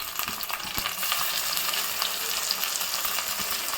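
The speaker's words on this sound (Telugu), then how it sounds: "ఈ ఆనియన్స్ పచ్చిమిర్చి కూడా ఫ్రై అయ్యింది కదా!" Onions and green chillies fry in a pan for a dry prawn curry, a steady loud sizzle with a few sharp clicks and scrapes of stirring, with no talking.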